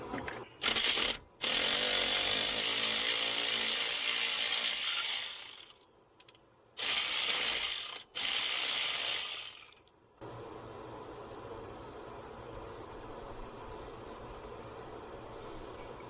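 A ratchet socket wrench turning on a 1991 GMC truck, with long bursts of rapid, loud pawl clicking close up, broken by short pauses and ending in quieter mechanical rattle.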